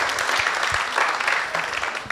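Conference audience applauding at a university award event, a steady dense wash of clapping throughout with no voices.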